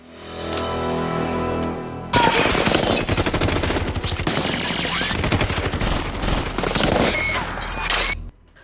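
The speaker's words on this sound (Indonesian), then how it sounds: "kini rumahnya juga dihujani senjata kelas atas yang pelurunya bisa menembus beton" Heavy weapons pound a house, starting with a rising rumble and then a loud, dense machine-gun barrage of rapid overlapping shots that runs for several seconds, with no speech.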